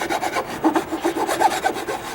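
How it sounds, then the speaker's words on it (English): A rasp files the edge of a wooden deck stair during dry rot repair and paint prep, with quick repeated rough scraping strokes, close and steady throughout. "And then I've got my rasp. Why do I need my rasp? Well, on this edge"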